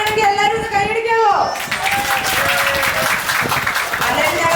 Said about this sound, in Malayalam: ഓക്കെ ആണെങ്കിൽ എല്ലാവരും ഒന്ന് കൈയടിക്കാവോ?